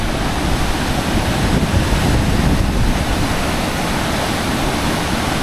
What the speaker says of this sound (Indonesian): kerasnya air mengalir itu